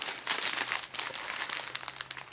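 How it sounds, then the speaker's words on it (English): A resealable plastic bag holding herbs crinkles steadily and close, with dense bursts of crackling rustle as it is handled, with no voices. "So it comes in a resealable plastic bag"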